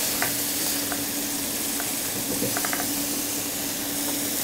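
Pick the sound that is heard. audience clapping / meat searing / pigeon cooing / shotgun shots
meat searing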